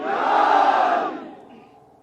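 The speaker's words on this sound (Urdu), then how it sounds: "میرے ساتھ مل کے 3-4 نعرے لگا دو" A rally crowd in Nagar Khas, Gilgit Baltistan, shouts a political slogan in unison, one loud burst that peaks early and then fades out.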